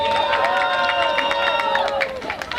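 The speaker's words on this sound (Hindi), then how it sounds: "एक बार जोरदार तालियां बजा दो सन टाइटंस वालों" A large crowd at a sports match between Sun Titans and Fortune Tiger claps and cheers loudly, with a sustained roar and whistles carrying across the whole stretch and a voice on a loudspeaker rising above it.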